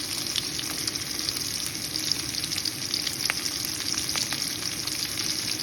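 Garlic, chopped onion and green chili fry in oil for fried rice, giving a steady, dense sizzle that holds at an even level throughout, with a few faint pops and clinks rising above the hiss.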